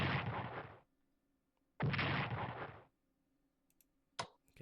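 Heavy artillery fire in the WWII strategy game Strategic Command, heard as two loud, broad booming blasts about two seconds apart, each decaying over roughly a second, followed by a short sharp burst.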